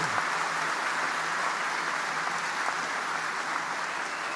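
A large crowd at the USS Gerald R. Ford aircraft carrier commissioning ceremony applauds the shipbuilders, producing a steady, broad roar of clapping that stays even throughout.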